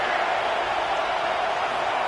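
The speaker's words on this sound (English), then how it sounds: "The roar of the crowd trying to fuel this defense to keep them pinned in their own end." Stadium crowd at a football game roaring in a steady, dense wash of cheering that holds at full loudness without a break.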